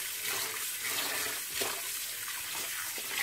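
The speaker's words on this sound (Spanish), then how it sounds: "Volvemos a llenar de agua." Tap water runs steadily into a pot to rinse corn kernels for a soup, a close, continuous splashing rush with no talk.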